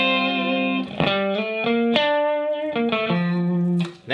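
An electric guitar played through its middle pickup, a run of clear, sustained single notes picked one after another with slight effects coloring, heard alone and close.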